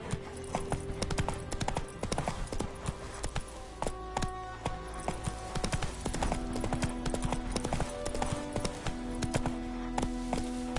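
Roach the horse gallops in The Witcher 3, hooves clip-clopping in a fast, even rhythm that stays close and loud throughout, with game music faintly underneath.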